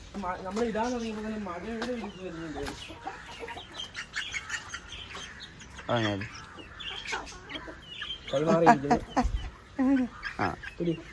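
Chickens cluck and squawk intermittently close by, mixed in with people talking throughout.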